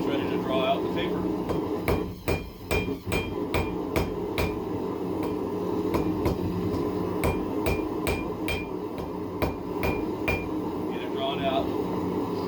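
Hot steel hammered on an anvil while forging out a long taper for a scroll, a steady series of sharp ringing blows with brief pauses, close up over a faint background hum.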